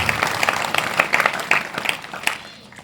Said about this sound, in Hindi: एक बार इनके लिए जोरदार ताली बजा करके